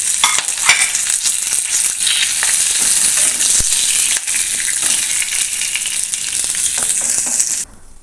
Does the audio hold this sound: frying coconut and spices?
yes